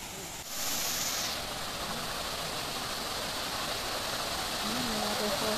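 A waterfall at the Ginger Garden in the Botanic Gardens, a steady broadband rush of falling water that swells in after the first half-second and holds loud and even throughout.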